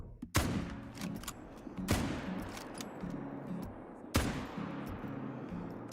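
Hunting rifle shots in Call of the Wild hunting game: three loud, sharp reports spaced a couple of seconds apart, each ringing out with a lingering echo over quiet outdoor ambience.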